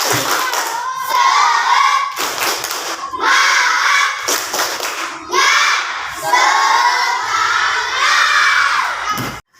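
Classroom students clap and shout for their groups in loud, energetic bursts separated by short pauses, children's voices cheering over the clapping, close and lively throughout.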